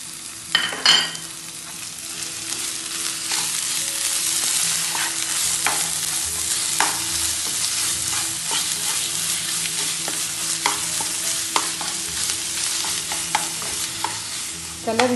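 Spices fry on a low flame in a pan for an Afghani mantu dish, giving a steady broadband sizzle with repeated stirring scrapes and clicks throughout. No one speaks.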